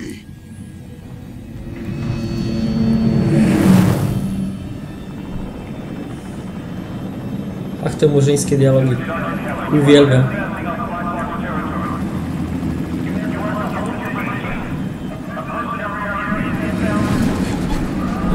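A helicopter in the action video game Prototype 2 gives a steady, low rotor rumble that swells around the third second and persists under someone talking throughout.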